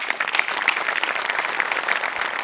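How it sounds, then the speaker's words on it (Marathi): A studio audience at a Marathi comedy show claps hard and continuously, a dense and close burst of applause with a faint crowd murmur underneath. "सगळ्यात आधी सेटिंग डिपार्टमेंटसाठी जोरदार टाळ्या."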